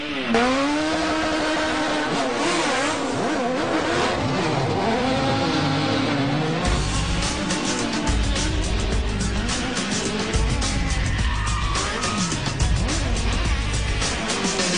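Stunt cars rev and race at a live vehicle action stunt show at Walt Disney World, loud engines roaring and accelerating with shifting pitch throughout, tires occasionally squealing.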